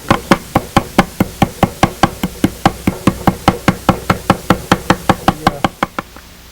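Hitch pins being tapped into the hard maple pin block of a zither, a rapid, even run of about thirty sharp, close, loud knocks at roughly four per second, stopping abruptly.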